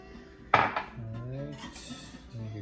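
Cutlery scrapes and clinks against a plate while slicing a chili-sprinkled, pizza-like pineapple flatbread, with a sharp clatter near the start followed by softer scraping, and people talking over it.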